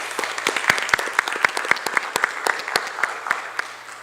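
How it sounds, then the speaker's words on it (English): Audience at a county school board of education meeting applauds in a steady burst of many hands clapping, fairly close and loud, with no talk over it. "So let's give Ms. Sisson and her program a round of applause"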